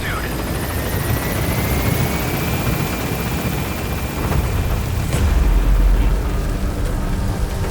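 A helicopter in Metal Gear Solid V lifts off with a loud, steady rotor roar and whine, swelling with a deep rumble partway through; game voices speak faintly beneath.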